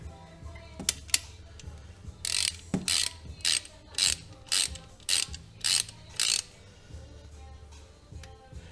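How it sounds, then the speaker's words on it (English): A socket wrench turns a bolt in on a Banshee shifter, with a regular series of about eight close ratcheting clicks over a faint background hum. "Grab your socket and start turning this bolt in."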